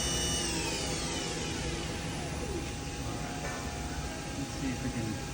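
A 2008 HURCO VM-1 CNC vertical machining center spindle spins at speed, up to its 8,000 RPM maximum, giving a steady, loud whine with shifting tonal lines under constant machine noise.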